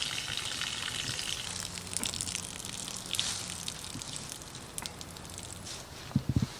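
Rinse water with lemon is dumped out of a container of fish, making a steady rushing, splashing gush. A few clunks and knocks rise near the end.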